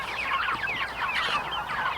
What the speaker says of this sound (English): These guys are getting huge. The meat birds only have 5 more days left.